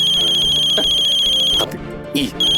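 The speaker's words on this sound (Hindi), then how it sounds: "हमको काहे बार बार फोन कर रहा है?" A phone ringtone plays as a repeating electronic melody, loud and close, in a domestic comedy scene, cutting out briefly before resuming.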